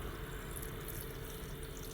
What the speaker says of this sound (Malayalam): മുളപ്പിച്ച ചെറുപയറിൻ്റെ ഒപ്പം ഇടിച്ചക്കയും വെള്ളം ഒഴിക്കാം.